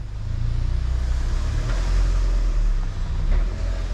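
Mazda NC Miata fitted with a new stage 1 clutch and lightweight flywheel, driving along with a steady, loud low engine and road rumble that swells slightly as it moves, no voices.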